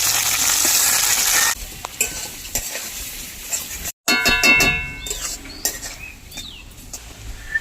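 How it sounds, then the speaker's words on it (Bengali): Mankochu (taro) leaf paste with salt and turmeric is stirred in hot oil in a village kitchen, producing repeated close scraping and stirring strokes over a steady sizzle, with a brief pause midway. "নাড়াচাড়া করে নেব।"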